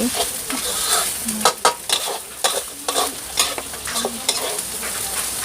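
Stir-frying at a Thai made-to-order food stall: a spatula scrapes and clanks against the pan in irregular strokes over a constant sizzling hiss, close and fairly loud, with no talking.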